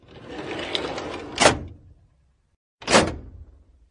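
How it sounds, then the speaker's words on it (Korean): A drawer being pushed shut after being pulled out gives two loud, close sliding knocks about a second and a half apart, with a low rumbling rustle before the first and silence between them. "꺼낸 서랍을 닫는 소리입니다"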